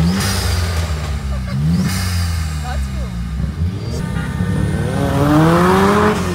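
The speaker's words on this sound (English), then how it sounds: "So it's four-cylinder, turbo, a race car that you can take on the road." A VUHL four-cylinder turbo road-legal race car engine revs loudly and close, its pitch sweeping up and down through several throttle blips and a final rising rev.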